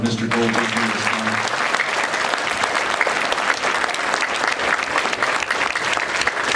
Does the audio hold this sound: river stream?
no